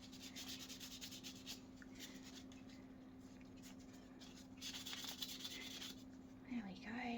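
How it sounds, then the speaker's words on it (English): Wet-dry sandpaper rubs against the edge of a resin pendant in a soft, continuous scratching, steady and close over a low constant hum. "Then I use some wet dry sandpaper."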